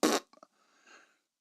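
A voice imitates a fart with a short loud burst, followed by a few quick sputters and a faint trailing rasp, heard alone in a quiet room.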